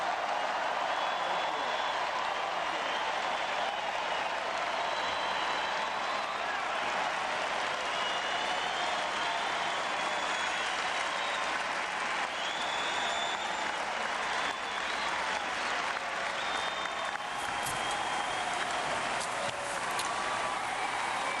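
A large political convention crowd applauds steadily and loudly after Governor Arnold Schwarzenegger's speech at the 2004 Republican National Convention, with dense continuous clapping, scattered cheers and crowd noise filling the whole stretch.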